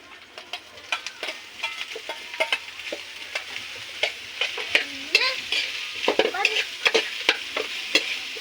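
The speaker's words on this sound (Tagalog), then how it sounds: "Ilalagay ko na yung karning baka na aking lulutuin." Beef fries in a pan with a steady soft sizzle while a utensil stirs it, giving frequent close scraping clicks and taps throughout.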